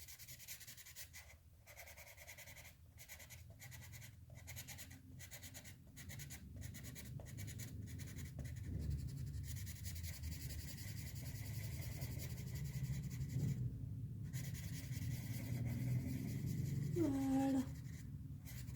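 A Prismacolor blender pencil rubs over colored pencil on paper, giving soft, close, rhythmic scratching strokes that build into steady scraping, faint and alone.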